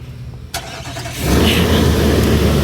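A 2021 Infiniti QX80 started by remote key fob: a quiet lull, a sharp click, then the engine cranks and catches into a loud, steady close-up rumble that settles toward idle.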